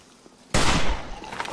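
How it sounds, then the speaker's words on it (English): A single loud gunshot in the survival video game 7 Days to Die during a feral horde blood moon night, a sudden sharp blast after near silence with a decaying rumble. "Get nice and close so I can shoot you in the head."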